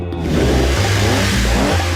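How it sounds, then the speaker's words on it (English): A 1976 Lamborghini Countach's engine revs up loudly and holds a deep, steady roar, close and alone. "1976 Lamborghini Countach."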